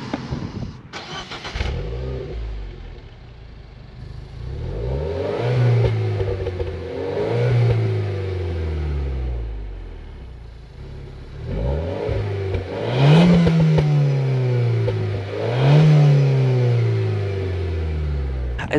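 Renault Clio RS exhaust revving through several rising and falling blips, a moderately loud, smooth sporty note heard up close with short pauses between revs.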